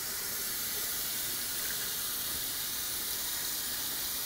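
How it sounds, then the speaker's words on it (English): Tap water runs steadily from a kitchen faucet as broccoli is rinsed beneath it, a constant close hiss with no voices. "we'll rinse this broccoli off"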